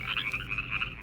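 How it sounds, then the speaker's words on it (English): Frogs croak in a dense, rapid pulsing chorus, steady and moderately close, with no voices. "There were frogs,"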